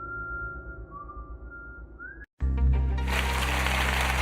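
A long steady whistled tone with a slight upward slide, followed by an abrupt cut and a burst of loud broadband noise.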